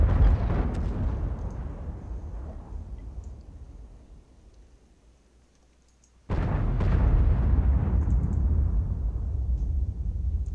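Artillery shells exploding in a tank video game, a long rumbling blast decaying into quiet, then a second heavy boom bursting in and roaring on loudly.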